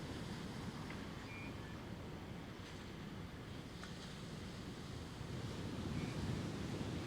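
Steady ocean surf rushing continuously at low level, a broad even wash of waves with soft wind noise and no voices.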